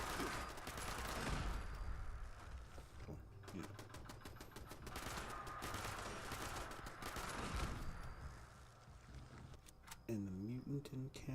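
Rapid gunfire from a turret in a video game, dense bursts of shots layered with game effects and voices talking over the action.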